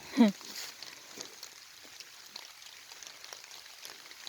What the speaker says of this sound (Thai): ฟังเสียงฝน